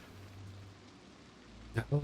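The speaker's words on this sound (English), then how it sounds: "And as you say rain, we have rain." Rain in Project Zomboid hisses softly and steadily as a faint wash, and a voice starts talking briefly near the end.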